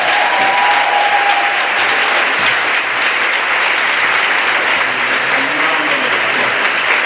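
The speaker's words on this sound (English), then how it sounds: "let's give them both a round of applause." A steady round of applause from the audience at a book talk held in a church, dense, even clapping sustained for about seven seconds.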